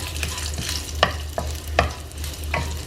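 Red chilies fry in a pan as they are stirred, with a soft crackling sizzle punctuated by several sharp spatula scrapes and taps at close range.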